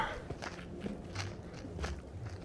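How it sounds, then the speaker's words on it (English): Footsteps in a video game, a few quiet evenly spaced steps crunching along at a walking pace, alone with no talk. "Alright, I'm hearing footsteps."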